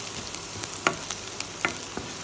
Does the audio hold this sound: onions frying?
yes